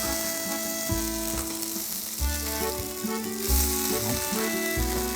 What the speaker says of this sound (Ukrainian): Смажимо, поки нам не здасться, що вони готові.